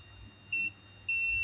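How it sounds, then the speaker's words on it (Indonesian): Analog multimeter continuity buzzer emits two steady high-pitched electronic beeps, each about half a second long, clear against a quiet background. "Jadi mulai dari ini ada buzzer. Buzzer itu nanti alarm ya."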